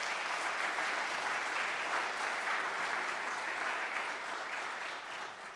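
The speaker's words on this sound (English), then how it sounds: "Great round of applause." An awards ceremony audience applauds steadily, a dense, close wash of clapping that holds loud and fades slightly at the end, with no talk over it.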